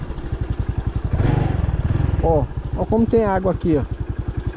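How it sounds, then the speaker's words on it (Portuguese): A motorcycle on a muddy, water-covered dirt road, its engine putting in a close, rapid, regular rhythm throughout while someone talks over it. "Vamos subir aqui na moto aqui."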